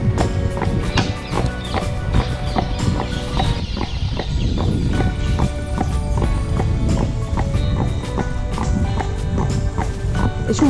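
Hooves of a carriage horse clip-clop in a steady trotting rhythm on a ride through a Seville park, loud and close, with wheel rumble and ambient birds behind the steps.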